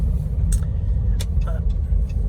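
Inside a 2010 Ram Cummins Megacab truck on the move, a steady low road-and-engine rumble carries on throughout, with a few brief clicks and rattles on top.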